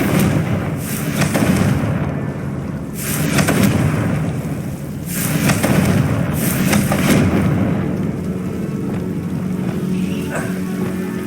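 The Confringo fire blast spell in Hogwarts Legacy bursts in a series of loud, crackling fiery blasts, several spaced a second or two apart, over a rumbling game background.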